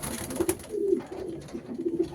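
A homing pigeon, the mother bird that arrived first in a 370 km race, coos softly in short low repeated notes close by, with no voices.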